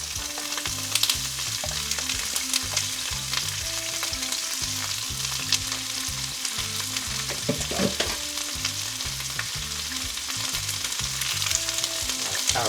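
Shredded cabbage stir-frying in about four tablespoons of hot oil for chicken chow mein with ramen noodles, a loud steady sizzle broken by rhythmic scraping and tossing strokes of the spatula in the pan.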